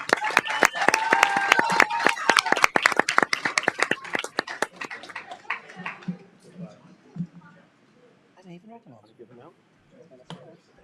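Attendees at a town council meeting give a round of applause, loud sharp clapping that gradually thins out into scattered claps as people begin talking.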